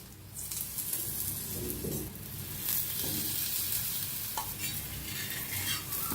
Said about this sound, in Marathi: थोडंसं तूप टाकायचं बघा टाकायचं सावकाश तूप सोडायचं